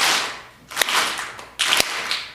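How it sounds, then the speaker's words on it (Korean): A church congregation claps during a Sunday sermon in a series of sharp bursts, two louder clusters standing out over a softer rustling wash, fairly close, with no talk. "마귀에게 패배의 박수 시작."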